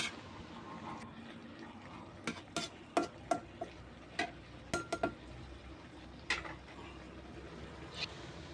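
Spicy pork belly and its ingredients stir-fried in a pan, with a low steady sizzle beneath a series of sharp metallic spatula clanks and scrapes against the pan, close up and without speech.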